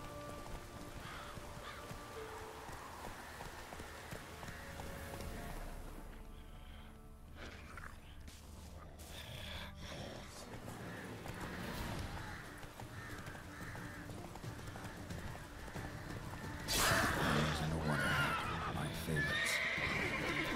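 A horse whinnies and its hooves clip-clop in a hunting game, under scattered crow caws and a faint patter like rain, while someone talks intermittently over the scene.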